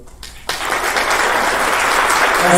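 Applause from an audience at a hospital director inauguration ceremony swells quickly after a moment of near quiet and stays loud and dense.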